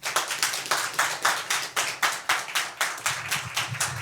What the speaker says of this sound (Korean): 다시 한번 격려의 박수 한번 더 주실까요?